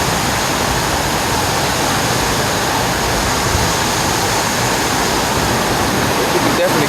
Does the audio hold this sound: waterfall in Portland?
yes